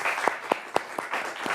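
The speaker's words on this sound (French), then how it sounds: "Je pense qu'on peut vous applaudir." A handful of distinct, evenly spaced hand claps ring out in a conference hall after a real estate round-table panel, sparse and close rather than a full crowd ovation.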